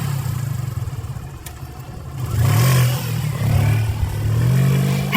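Motorcycle engine rumbling in the dark of a horror story scene, a steady low drone that swells louder and revs up midway, holding near and strong with no talk.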